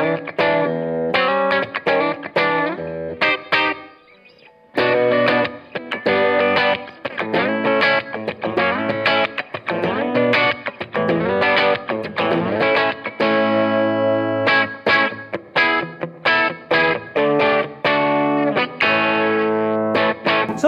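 An Alpine White Epiphone Les Paul Custom electric guitar with ProBucker humbucker pickups plays distorted riffs and chords, loud and up close, with a brief pause partway through.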